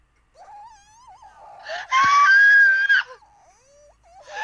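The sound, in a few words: scream on a tape in the video game Spirit Hunter: NG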